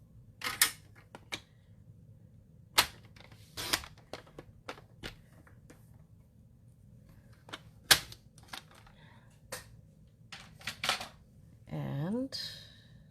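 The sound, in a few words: trimming paper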